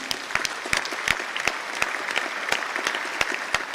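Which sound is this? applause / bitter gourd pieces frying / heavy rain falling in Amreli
applause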